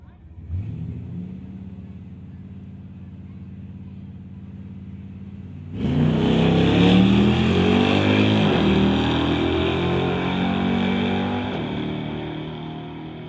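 A 1969 Ford Mustang Mach 1 fastback at a street-legal drag racing event idles with a low, steady rumble, then sharply revs into a loud, roaring launch that gradually fades.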